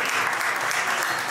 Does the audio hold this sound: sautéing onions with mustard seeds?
no